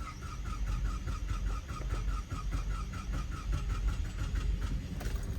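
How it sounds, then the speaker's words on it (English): A GM 3.6-litre V6 in a Cadillac CTS with misfiring cylinders runs rough and steady, a close, loud and uneven engine rumble that carries on unbroken. "try to start the car and listen to the engine"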